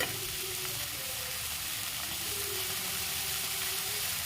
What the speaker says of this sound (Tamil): தேங்காய் போட்டுட்டு நல்லா வதக்கி விட்டுட்டு அடுத்து கொத்தமல்லி போடுறோம்.